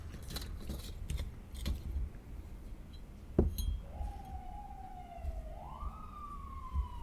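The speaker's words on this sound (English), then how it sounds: "There's a siren right on time as we're getting ready to start." A distant emergency siren rises and wails faintly in the background, after some clinking and a sharp knock nearby.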